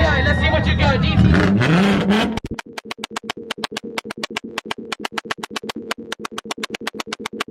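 A Mitsubishi Evo and a VW GTI take turns revving hard in a tuner car show step competition, starting with a dense roar and then a long run of rapid, evenly spaced bangs and pops under a cheering crowd.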